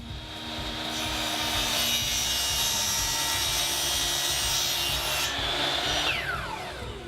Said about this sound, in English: I'm going to cut it on the saw here, but you can cut it with any saw that you have available to you.